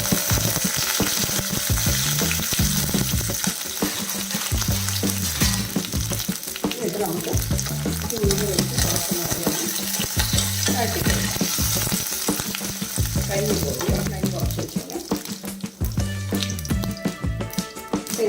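Constant crackling sizzle of curry leaves frying in hot oil, with a low rhythmic background music-like pattern underneath throughout.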